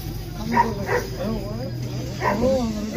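A 45-day-old puppy yips and barks in short bursts at an outdoor dog market in Shymkent, close by, while people talk over it.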